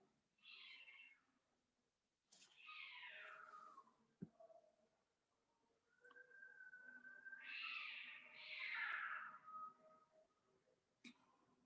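Neighborhood cats fighting, with loud, drawn-out yowls and rising screeches in several bursts, close by, plus a sharp thump partway through and no talking.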